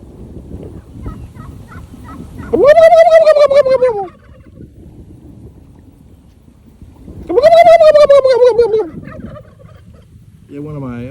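A man imitates turkey gobbles with his voice in two loud, rising-then-falling warbling bursts separated by a pause, outdoors near a lake, with a faint third call starting at the end.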